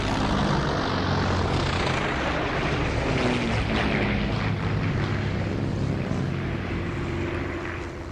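Vintage propeller fighter plane, the Red Baron's aircraft, flying over a castle: a loud, continuous droning engine roar with a broad rumbling texture, holding steady before easing slightly at the end, with no voices.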